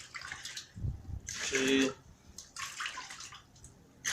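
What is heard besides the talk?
water being poured into a measuring container for paint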